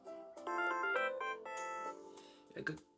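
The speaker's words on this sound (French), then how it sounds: "J'ai entendu une sorte de son d'électronique bizarre. C'était l'alarme de votre téléphone." A phone alarm plays a short electronic melody of bright, steady tones that start and stop abruptly. It is fairly quiet and close, with a brief burst of other noise near the end.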